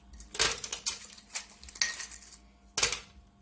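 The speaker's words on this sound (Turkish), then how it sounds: "12 küp buzumuzu bırakıyoruz" Several hard clinks and clatters as ice cubes tumble into a blender, in three or four separate bursts, close by.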